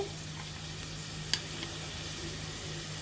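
Small mola fish cook down in a pan with chopped onion and tomato, a soft steady sizzle running throughout with one brief click from a utensil partway through.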